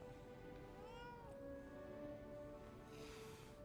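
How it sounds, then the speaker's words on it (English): A cat meows in the video game Lies of P, a few thin tonal calls rising over a steady bed of game music and ambience, moderately faint throughout. "Hey, the cat."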